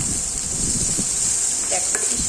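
Potato chow mein sizzling and being stirred in a hot pan, a loud, steady frying hiss with occasional scraping stirs throughout.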